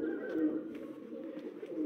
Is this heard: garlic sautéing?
no